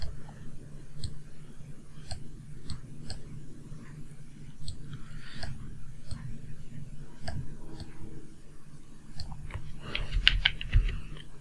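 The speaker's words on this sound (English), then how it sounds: "Press on enter." Computer keyboard keys pressed during desktop photo-editing work, a series of crisp, separate clicks spaced unevenly, close and moderately quiet over a low background hum, with a cluster of quicker taps near the end.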